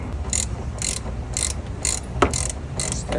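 A ratchet with a 15mm socket loosens a shock absorber bolt, making a steady series of crisp, close clicking bursts spaced about half a second apart.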